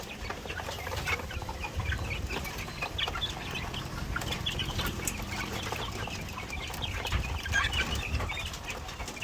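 Barred Rock laying hens cluck steadily on dry feed as a hungry flock at feeding time, a continuous overlapping chorus of clucks with occasional wing flaps, no talking.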